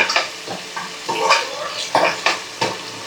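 Chicken pulao ingredients fry in a pan, loud close sizzling broken by rhythmic scraping stirs about every half second.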